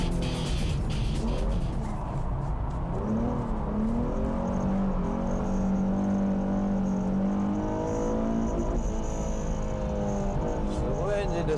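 An S-Tuned street car laps the Fuji racing circuit, its engine revving up and down through gear changes in smooth rising and falling sweeps, with faint voices underneath.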